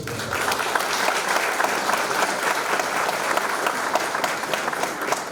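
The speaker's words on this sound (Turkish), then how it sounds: "büyük bir alkış istiyorum" Sustained applause from an audience honouring the Kartal mayor at a collective labour agreement celebration, dense and steady throughout at even loudness with no talk over it.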